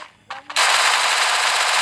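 Rapid automatic gunfire from a Thai-language video game, a brief burst of shots followed by a loud, sustained stream of fire that runs close and continuous to the end.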